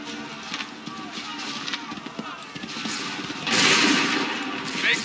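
Musket volleys in the Assassin's Creed 3 video game rattle through a dense battle din at Lexington and Bunker Hill, with scattered crackling shots, a louder burst of fire near the end and shouted commands throughout.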